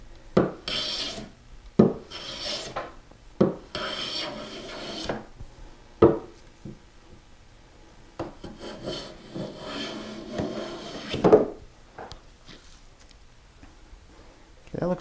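Hand plane shaving a wooden spokeshave body in repeated strokes, each a breathy rasping swipe followed by pauses, close and fairly loud, with a few brief knocks between passes.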